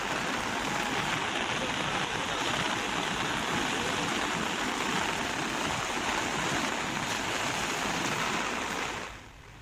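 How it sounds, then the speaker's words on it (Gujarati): The Mohan and Vira rivers in flood after heavy monsoon rain, a loud continuous roar of rushing water close by that cuts off abruptly at the end. "મોહન નદી વીરા નદીનું રૌદ્ર સ્વરૂપ જોવા મળ્યું છે."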